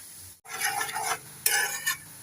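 Herbal hair oil bubbles in a pan while a spoon scrapes and stirs it, with soft sizzling between two bursts of stirring, close and moderately quiet, with no talking.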